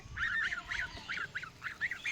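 Repeated nasal honking calls from a domestic duck in quick succession, close and fairly loud, with no voices.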